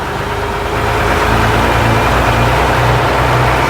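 1958 Leyland PD2 double-decker bus pulling away in third gear, its heavy diesel engine giving a loud, steady low drone that swells slightly as it gathers pace, heard without talk.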